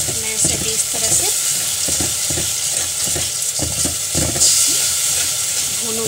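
Ingredients dry-roasting in a pan, a steady bright hiss overlaid with repeated rhythmic scraping strokes of stirring, close and fairly loud throughout.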